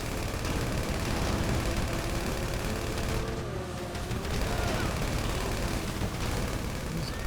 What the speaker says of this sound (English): You shoot the guy that's driving.